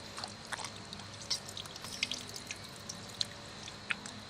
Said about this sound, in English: I drilled holes around the sides here to let the water drain out.